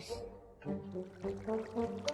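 Flowing water in Minecraft, a soft pouring burble that cuts in after a brief quiet and then carries on steadily with small surges, tonal game noise underneath.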